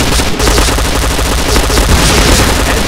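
Rapid automatic weapon fire from the Point Blank first-person shooter game blasts continuously and loudly, a dense unbroken stream of shots with no pauses.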